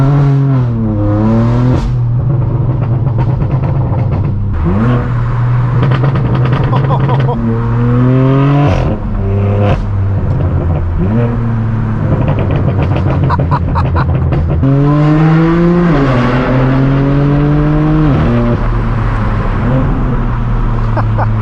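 Straight-piped BMW M4 F82 coming to life and pulling away at night: loud, raw exhaust drone with repeated rev climbs and sharp drops as gears shift, close and dominant throughout.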